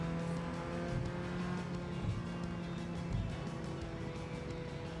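Corvette C5 engine in the Gran Turismo 7 video game, a steady loud droning engine tone with manual upshifts, continuous throughout with no talk.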